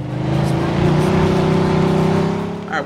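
A car driven in the video game Mafia 2, its engine a loud, steady low drone that swells slightly and holds throughout, close and continuous, ending with a brief tonal flourish.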